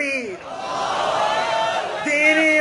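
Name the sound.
crowd chanting response to Nara-e-Takbir slogan at rally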